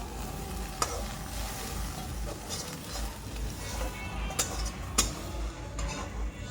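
Soybean chunks fry lightly in oil in a home kitchen, a steady soft sizzle with a few sharp clicks of a utensil against the pan, close and unaccompanied by talk.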